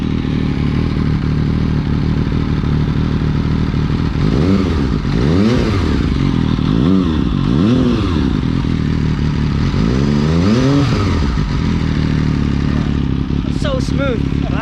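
A Japanese big bike revs repeatedly, its engine rising and falling in several distinct swells over a steady idle, with a voice talking faintly underneath.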